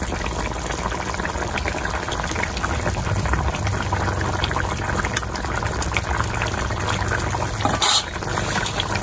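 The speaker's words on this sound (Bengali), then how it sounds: "ঝোল ফুটে গেছে, ভেজে রাখা মাছ দিয়ে দিচ্ছি।" Red fish curry gravy with potatoes bubbling at a steady boil in a pot, a continuous dense burble and simmer with a brief louder splash of fried fish going in near the end.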